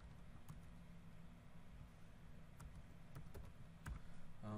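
Quiet, scattered key clicks of typing on a computer keyboard, a few sharper taps standing out over a low steady hum of a room.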